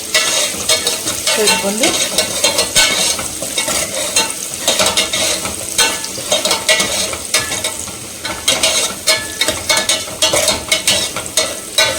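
Onions and curry leaves sizzle and frying in a pan while a spoon stirs and scrapes with steady clatter, close and loud throughout, someone briefly speaking over it while making a vegetarian lunch.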